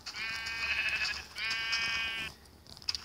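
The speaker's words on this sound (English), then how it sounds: "You guys are probably wondering why I'm destroying so many sheep." Sheep in Minecraft Pocket Edition bleat twice in quick succession, each call clear and close, followed by a few soft clicks.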